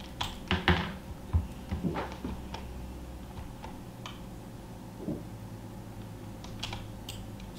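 Someone types on a computer keyboard at a gaming setup with quick, irregular clacking key presses, some louder taps early on, then softer scattered clicks in a quiet room.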